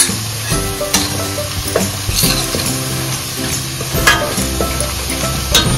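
Masala of red chilli and coriander powder sizzling loudly in a pan while being stirred, steady frying hiss with repeated scraping strokes of a spoon, close and continuous with no talk.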